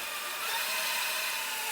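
A power drill whirs steadily at high speed boring into wood, a continuous close buzzing hum with no pauses.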